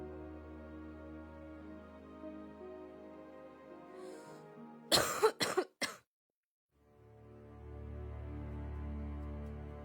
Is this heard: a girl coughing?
yes